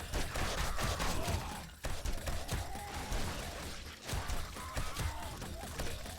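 A robotic turret in the game 7 Days To Die fires in rapid, mechanical bursts, dense and continuous with brief gaps, close and loud, with faint talk underneath.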